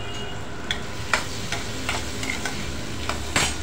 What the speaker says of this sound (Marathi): 1-2 मिनिटं परतून घेणार आहोत। आपण यात थोडे धणे पावडर टाकूया